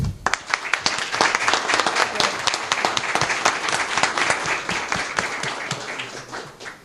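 An audience at an agricultural sector leadership meeting in São Paulo gives a steady round of applause that lasts several seconds and fades toward the end. The crowd sounds moderately close and claps without any speech on top.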